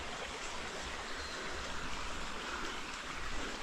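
A creek runs through dark woods near a campground at Fish Trap Lake, Kentucky, giving a steady, faint rushing wash of flowing water with no voices.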